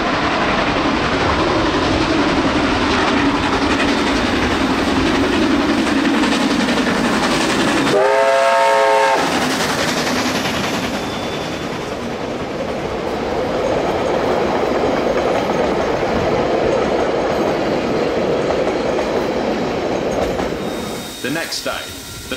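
Steam locomotive Ja 1271 hauling an excursion train on a rail tour, a loud steady rumble of wheels and running gear with a short whistle blast partway through, the train noise continuing throughout.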